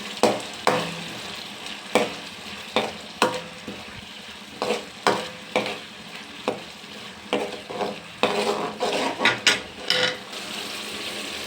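A spoon scrapes and knocks steadily in a pan of bitter gourd curry with urad dal and jaggery, giving repeated rhythmic clacks over a soft continuous sizzle, close and clear, with no talking.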